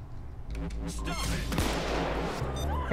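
Gunfire in the heist game Payday 2 during a bank robbery, a few sharp shots cracking out amid dense game noise while players talk over it.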